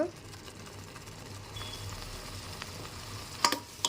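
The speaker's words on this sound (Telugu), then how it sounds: "చూస్తున్నారు కదా ఎంత చక్కగా వేగుతుందో ఆనియన్ పేస్ట్" Onion paste fries in a pan on the stove for an egg curry, giving a steady, low sizzle with a few sharp clinks of a utensil near the end.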